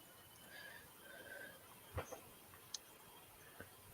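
A faint horse whinny plays as a sound effect in a tabletop role-playing session, a thin high call over low ambient hiss, with a few soft clicks and knocks scattered through.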